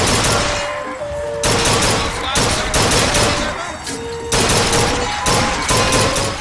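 Rifle gunfire in the video game BioShock Infinite, loud repeated bursts of shots in clusters separated by brief pauses, close and dominant throughout.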